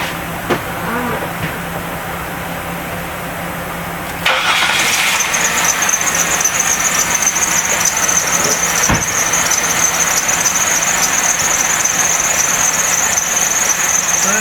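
A car engine cranks and starts, then idles on fuel injection cleaning solution at about 40 psi, a steady close hum with a high whine laid over it after a quieter opening.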